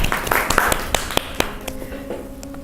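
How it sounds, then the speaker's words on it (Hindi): A small classroom group gives a short round of scattered applause for a student, with a handful of sharp, uneven claps that thin out and fade within a few seconds. "सचिन के लिए तालियां बजा दें।"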